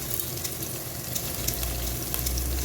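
Onions with rock salt frying in a pan for cabbage potato sabzi, a steady close hissing sizzle with occasional crackles, continuous and unbroken, no voices over it.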